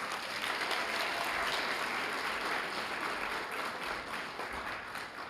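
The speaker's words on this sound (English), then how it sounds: "Give Shan a round of applause." Sustained applause from an audience at a police department awards ceremony in Southfield, a dense, even wash of many hands clapping that holds steady for several seconds with no talking.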